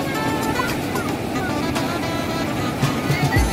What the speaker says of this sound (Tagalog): Lakas po ng alon dito.